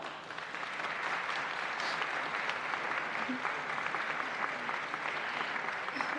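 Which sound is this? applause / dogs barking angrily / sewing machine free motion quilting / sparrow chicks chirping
applause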